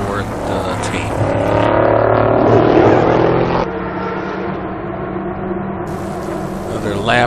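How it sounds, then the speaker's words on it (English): A race car, the Turner Motorsport Crown Royal number 60, laps the track at a 2010 Grand Am test day. Its engine drones loud and steady, swelling then dropping back as it passes and fades into the distance. "this car really, really gets around this track good"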